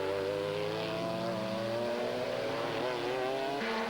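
GT race car from the FIA GT 2000 championship roaring past on a circuit, loud engine note with harmonic tones that shift in pitch as it passes, steady and close throughout.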